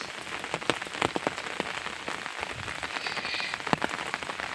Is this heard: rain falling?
yes